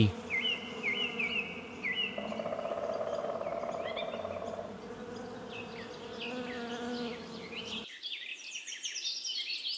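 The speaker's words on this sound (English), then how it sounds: "Bee." A bee buzzes steadily and fairly faintly outdoors, with bird chirps scattered over the hum and a few brief tweets near the end.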